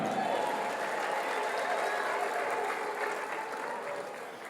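A church congregation claps together during a sermon, a dense, steady wash of applause that carries on throughout and eases off slightly toward the end.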